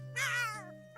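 A cartoon cat in a South Park episode gives a single clear, drawn-out meow lasting under a second over a low steady hum.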